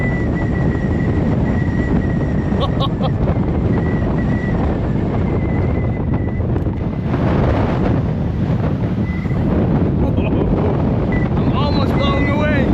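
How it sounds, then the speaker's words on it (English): Strong wind on a mountain in Wales buffets the microphone in a loud continuous roar, gusting harder at times, with faint voices underneath. "now here it is windy."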